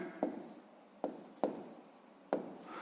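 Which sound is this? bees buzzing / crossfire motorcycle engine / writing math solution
writing math solution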